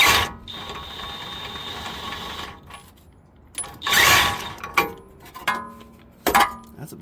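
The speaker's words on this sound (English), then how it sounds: "I'm going to tighten this castle nut up" Ratchet tightening a castle nut on the lower control arm ball joint of a 1998 Toyota Tacoma, giving a few bursts of close, dry clicking separated by pauses and handling noise.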